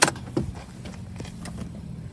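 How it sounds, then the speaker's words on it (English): A seat in a 2019 Honda Odyssey EX-L tilts forward on its lever with a sharp mechanical clack at the start, then a second softer clunk as it shifts, followed by quiet cabin rustle. "You can tilt the whole seat forward"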